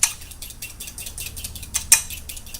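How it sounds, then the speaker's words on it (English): Egg whites whisked by hand with a fork in a bowl for a cake pop recipe: steady, quick rhythmic clicking and tapping of metal against the bowl, close and fairly crisp, with a couple of sharper knocks. "You could probably do this with an electric blender, but I'm just doing it with a fork."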